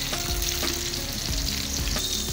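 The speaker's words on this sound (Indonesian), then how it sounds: "biasanya cabenya kalau kita goreng utuh seperti ini biasanya meletus." Whole chilies fry in hot oil for a home-style tempe and basil sambal, giving a loud, steady sizzle with soft crackles and occasional pops throughout, and no voices.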